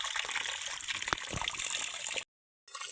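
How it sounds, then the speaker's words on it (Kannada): Pure mineral water flows up out of the ground at a temple spring, a close, steady trickling and gurgling with a few splashy pops, cut off by a short silence near the end. "ನೀರು ಭೂಮಿ ಒಳಗಿನಿಂದ ಎಷ್ಟು ಪರಿಶುದ್ಧವಾದ ನೀರು ಬರ್ತಾ ಇದೆ"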